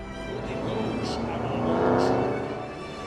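Drag race cars rumble and rev on the track at a drag racing event as the race restarts, the engine roar swelling and fading beneath a commentator talking throughout.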